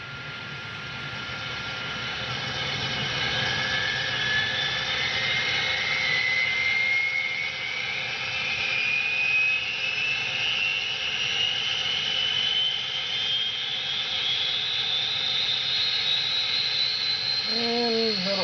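Turbine sound from a LokSound 8500 decoder in a ScaleTrains Big Blow GTEL model locomotive, a loud, close jet-like roar spooling up with a steadily rising whine that sustains for many seconds, no speech.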